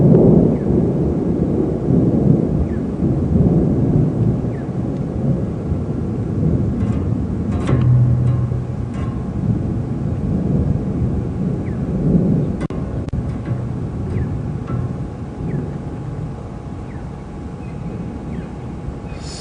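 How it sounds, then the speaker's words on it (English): Thunder rolls on and on during an evening safari drive at Djuma Game Reserve, a low, broad rumble that swells and fades for about twenty seconds with no voices. "here you can hear the thunder rolling in a few seconds afterwards"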